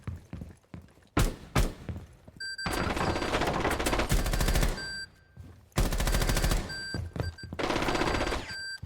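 Loud, rapid bursts of gunfire from the Rainbow Six Siege video game come in long dense strings separated by brief gaps, with no talk.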